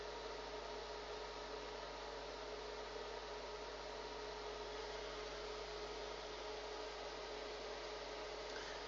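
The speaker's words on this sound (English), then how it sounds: "not my aircon, it's my extractor" A steady, faint mechanical whir of an extractor fan hums continuously with an even, unchanging broadband hiss.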